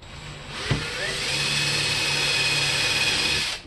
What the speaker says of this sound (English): Drill your hole through it like that right there.